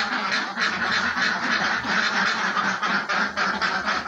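Ducks on an Indonesian duck farm quack continuously in a dense, loud flock chorus, overlapping calls filling the whole stretch without pause, no talking.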